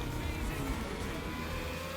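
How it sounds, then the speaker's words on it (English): Formula E style electric race car driven in the video game The Crew Motorfest, a steady high whine with a fast, even sense of speed and a faint low rumble underneath, continuing without break. "Ooh, Formula E type cars. Ooh, this sounds awesome."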